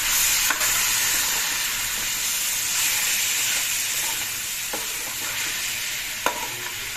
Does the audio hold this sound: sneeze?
no